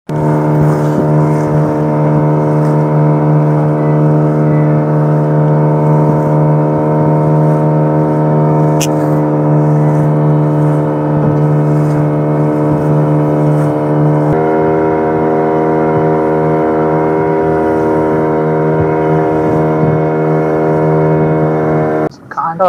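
A small fishing boat's engine drones loud and steady for the whole stretch, a continuous throbbing hum that shifts in pitch partway through, heard up close.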